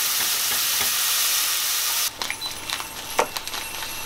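Onion and tomato purée sauté in a pan, opening with a loud, steady sizzling hiss that suddenly drops into quieter crackling broken by several scrapes and clinks of stirring.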